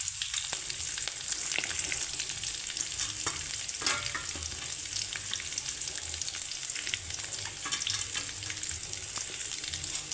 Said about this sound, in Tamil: எல்லாத்தையும் நல்லா சேர்த்து வதக்கி